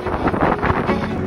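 Strong headwind buffets the microphone of a cyclist riding along the Danish coast toward Hvide Sande, a loud, continuous rumbling roar with no voices.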